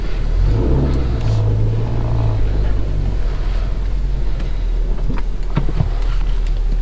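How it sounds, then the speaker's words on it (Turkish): A car rolls slowly over grass with a low, steady engine rumble, joined by scattered crackling and crunching underneath the tires, fairly loud and close. "Çatır çutur sesler geliyor, çimen sesleri."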